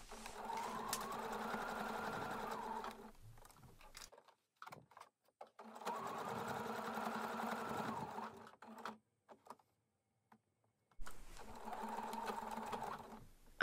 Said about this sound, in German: Das Ganze wird nun mit einer Nahtzugabe von 1 cm aufeinander genäht.